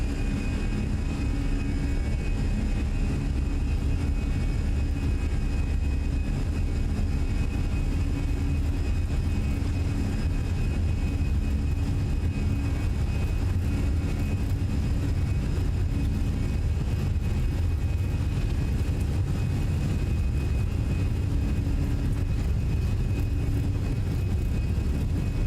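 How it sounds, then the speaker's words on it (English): A Finnair Airbus A320 rolls down the runway for takeoff in a flight simulator, its engines holding a steady, loud, low roar with a faint whine on top throughout. "Takeoff."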